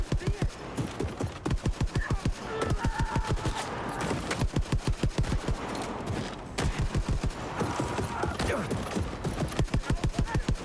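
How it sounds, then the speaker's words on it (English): Rapid automatic gunfire in Wolfenstein II: The New Colossus, long sustained bursts of evenly spaced shots mowing down Nazis, loud and close, pausing briefly between volleys, with occasional talk underneath. "We're just gonna spend the next couple of minutes just shooting Nazis."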